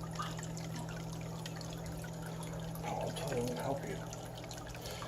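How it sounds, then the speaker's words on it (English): Water trickles and splashes steadily in a flowerhorn fish aquarium kept slightly below full, with a constant low pump hum and a brief louder burble near the end. "usually I keep the water level not quite up top because I like that water flow effect"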